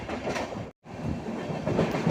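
The Ernakulam Tatanagar Express running through and skipping Edappally railway station, heard from on board as a loud continuous rumble and clatter of wheels on rails, with a brief dropout in the middle.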